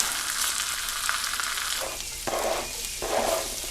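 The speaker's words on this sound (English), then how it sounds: "we're going to remelt some butter in these pans. It'll kind of deglaze a little bit. And add onion and garlic." Butter melting with onion and garlic in pans, a soft steady sizzle with brief stirring scrapes and bursts of frying, no one talking.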